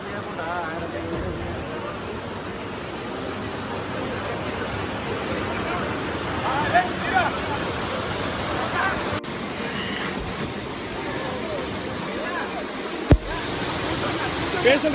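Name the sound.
Rachakonda waterfalls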